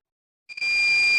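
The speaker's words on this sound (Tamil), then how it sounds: "ஷார்ட் பண்ணிங்கன்னா பீப் சவுண்ட் வரும்." A continuity tester gives a sudden, steady electronic beep the moment two wires are shorted together, starting after brief silence and holding on loud and close.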